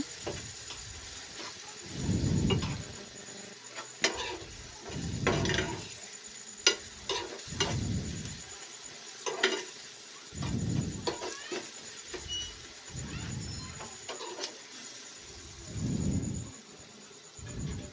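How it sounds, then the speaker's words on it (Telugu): Raw prawns frying in a pan for a coconut prawn curry, with a steady soft sizzle broken by repeated scraping stirs of a spoon, close and fairly quiet, no talking. "ఇప్పుడే రొయ్యలు వేసుకొని మళ్ళీ 2 నిమిషాలు వేయించుకోవాలండి"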